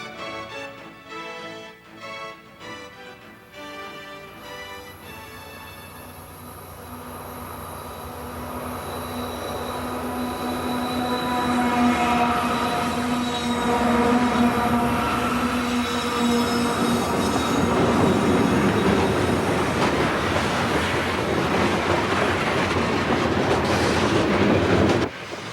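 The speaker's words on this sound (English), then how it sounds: "This westbound St. Louis to Roseville manifest is heading for a meet at Pando Siding." Westbound St. Louis to Roseville freight manifest train rolling down a steep 3% mountain grade toward Pando Siding, with squealing wheels and steady rumbling that grows louder and closer, sustained throughout with no talk.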